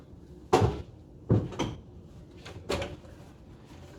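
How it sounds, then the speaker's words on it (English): A kayak's plastic insert and propeller drive unit being lifted out, heard as four separate hollow plastic clunks and knocks, close and fairly loud, with quiet gaps between them. "removing the plastic insert and the drive system together"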